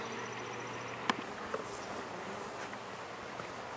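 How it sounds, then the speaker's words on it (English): Honeybees hum in an open, heavy hive during an inspection, a soft continuous buzz close by with a couple of faint knocks or clicks, no talk. "Good population of bees in there."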